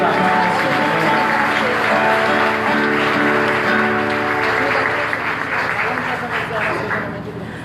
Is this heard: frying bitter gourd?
no